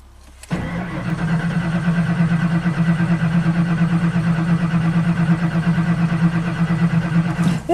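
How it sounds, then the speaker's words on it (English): Ford big block engine cranking with the ignition disabled: a steady, even starter churn runs continuously for about seven seconds at close range, with no voices. "Let's listen to this thing crank with the ignition disabled."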